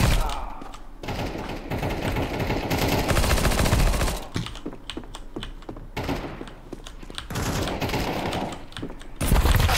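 Counter-Strike 2 close-quarters gunfire rattles in loud rapid automatic bursts, several volleys broken by short pauses, with single shots and clicks between them.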